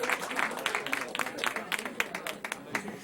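Audience applause for elementary school champions at a school awards ceremony: dense, steady clapping from a crowd that carries on throughout, with voices talking over it.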